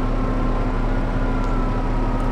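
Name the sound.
tractor engine in video game Farming Simulator 25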